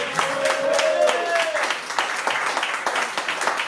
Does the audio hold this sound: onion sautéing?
no